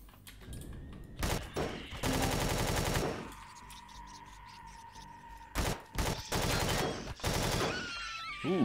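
Powerful gun bursts in the space survival game Empyrion Galactic Survival, with dense, loud volleys of rapid fire in several separate blasts broken by short pauses and a lingering tonal hum between them.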